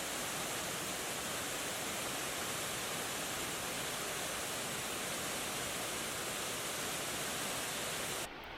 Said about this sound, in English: we came to the tallest waterfall on this route, which is Ganoga Falls, which is 94 feet in height